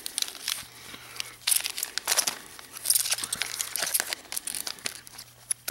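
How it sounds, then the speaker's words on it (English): Pokemon trading cards from Sun and Moon booster packs shuffled by hand, giving a close, continuous run of papery crinkling and flicking with uneven bursts. "So I'm going to take one half and just shuffle it."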